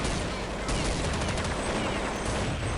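Counter-Strike 1.6 gunfire, a dense stream of close, sharp shots with rapid bursts ringing over a loud, continuous game background.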